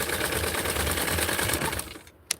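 A sewing machine runs steadily as it stitches a small doll shirt, a close continuous whir that stops near the end and is followed by a brief click.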